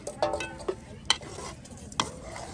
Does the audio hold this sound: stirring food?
yes